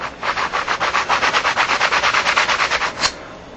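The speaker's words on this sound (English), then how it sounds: "I have a 3M sanding block," A 3M sanding block rubs back and forth across a mill-finish metal plate, about twenty steady, even strokes in quick rhythm, close and fairly loud, with no talking.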